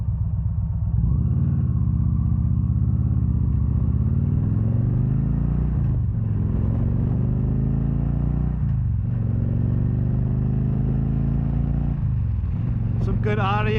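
A 2013 Victory Cross Country touring motorcycle rumbles steadily on the road, its low V-twin drone rising and falling through gear shifts, with wind noise and a rider talking over it.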